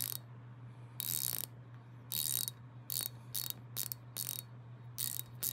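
A mini Asa 72-tooth dual-direction ratchet screwdriver handle tightening a screw gives about eight quick bursts of fine, rapid ratcheting clicks, close and crisp, over a steady low hum, with no talking.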